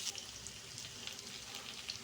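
Curry leaves frying in oil with golden-brown onions, a soft, continuous crackling sizzle with faint spitting pops, quiet and close.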